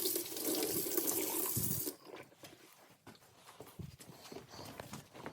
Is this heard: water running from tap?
yes